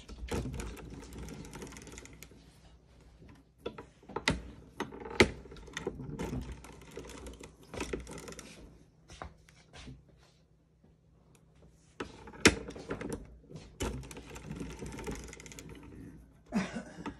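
A knitting machine running with a slight grinding, giving faint mechanical clicks, rattles and carriage sweeps in uneven bursts, with a low steady hum underneath.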